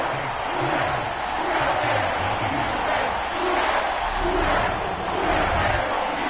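Roar of a stadium crowd in a PS4 football video game during an NFL Saints game, a steady, dense wash of cheering and shouting that stays loud and unbroken throughout, with no clear talk.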